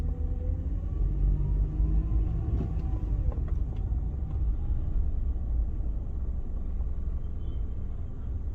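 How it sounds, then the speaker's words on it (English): Road traffic on Bluff Hill in Napier, including old vintage cars, a steady low rumble of passing vehicles at moderate distance throughout, with no voices. "quite a lot of traffic around today"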